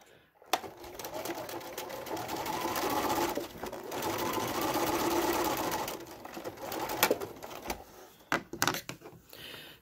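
Sewing machine stitching quilt star pieces together, a steady mechanical whir running in long bursts with short pauses and small clicks between seams, close and fairly loud.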